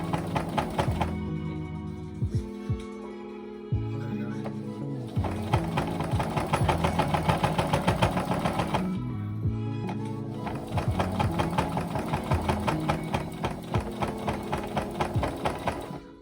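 Sewing machine stitching binding onto gender-affirming stays, loud close rapid mechanical clatter in several bursts with short stops between, no voices.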